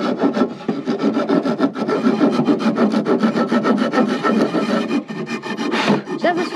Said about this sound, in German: Wir kürzen jetzt mit den Sägen unser Holz.